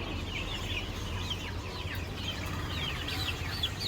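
Chickens cluck and call in a farmyard, where a tall hen with fluffy, rabbit-like feathers is being picked out. Overlapping bird calls keep going against a steady low background hum, with no talking.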